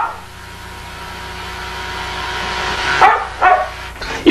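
A dog barks a few times, a short, sharp cluster of loud yaps near the end over a steady background hum.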